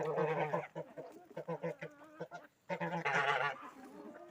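Geese honk repeatedly in loud, harsh bursts at a feeding trough, mixed with clucking chickens nearby, a busy jumble of farmyard calls with brief pauses.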